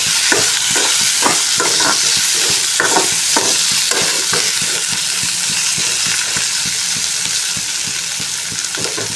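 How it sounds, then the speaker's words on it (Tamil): Tomatoes sautéing in a pan over a high flame, a loud continuous sizzle close by, broken by rhythmic scraping strokes of a spoon stirring every half second or so. "தக்காளி சேர்த்துட்டு இதுவும் கொஞ்சம் வதங்கினா போடுங்க அவ்வளோதான் ஃப்ளேம் வந்து ஹையில் வச்சுக்கலாம்"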